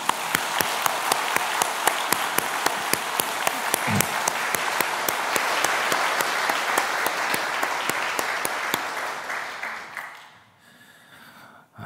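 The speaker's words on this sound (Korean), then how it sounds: "어제도 박수 한 번 더 쳤는데 오늘도 박수 한 번 치" A church congregation at a special dawn prayer service claps in a fast, even rhythm for about ten seconds, loud and dense, then breaks off and trails into quiet room sound.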